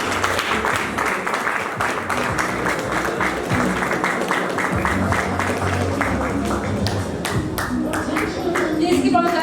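A school anniversary audience at Quality International School claps for the chairman, loud continuous applause with voices and cheering mixed in over the crowd.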